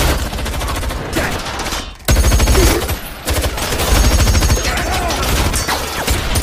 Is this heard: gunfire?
yes